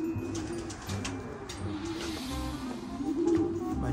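Racing pigeons arrive back at their loft after a 50-kilometre flight, their soft repeated cooing heard close by and continuous over a low background murmur.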